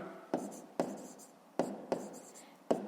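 Numbers being written by hand during a fifth-grade math lesson: pen or chalk strokes come as a handful of sharp taps with scratchy trails, close and fairly quiet, with no talking.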